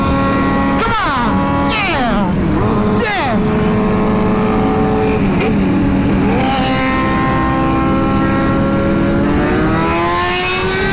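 A Ducati 1199R and a Kawasaki ZX-10R race on track, loud engines rising and falling in pitch through repeated upshifts and revs, close and continuous, with a voice shouting over them.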